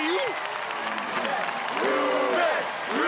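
A crowd at an American Ninja Warrior qualifying course in Los Angeles cheers and claps steadily for a competitor, with a commentator talking over the noise throughout.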